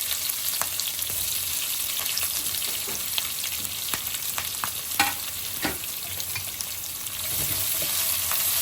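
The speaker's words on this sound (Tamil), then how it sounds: "வெங்காயம் நல்லா பொரிஞ்சு வர வரைக்கும் ஃப்ரை பண்ணி எடுத்துட்டு" Onions frying for vegetable upma make a steady, close sizzle in the pan, with occasional sharp crackles and pops and a few stirring scrapes, and no voices.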